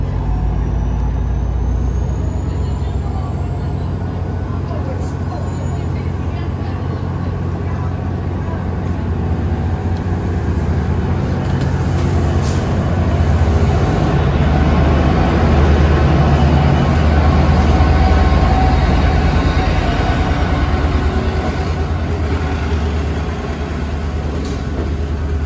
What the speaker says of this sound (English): Our first train is an MBTA inbound train with F40PH-2C 1036 trailing.